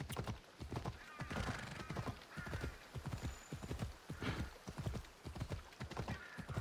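Galloping horse hoofbeats in the video game Assassin's Creed Odyssey: rapid, rhythmic clip-clop strikes at a steady pace with occasional neighs, fairly quiet in the mix.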